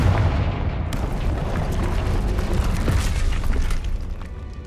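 A sustained, rumbling Confringo blasting-spell explosion from Hogwarts Legacy, loud and booming with a sharp onset, followed by dense crackling debris.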